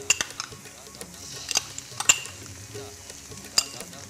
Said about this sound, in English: Moving it around at this stage continuously, because the tomato puree would have that tendency to sort of stick to the bottom